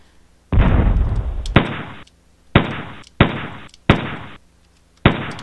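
Player ship gunfire striking army ships in an arcade shooter, a series of loud, abrupt synthetic bursts, some long and some short, arriving at an uneven rhythm with quiet gaps between them.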